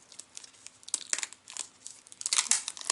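Thin plastic packaging on a box of stationery supplies crinkles and tears in dense, irregular bursts, close and fairly loud, getting busier toward the end, with no talking.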